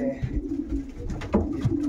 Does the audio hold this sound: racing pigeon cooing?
yes